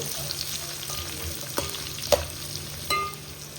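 Onions frying in a pan with a pinch of salt for mushroom biryani, giving a steady close sizzle with a few sharp spatula scrapes and taps, no one speaking.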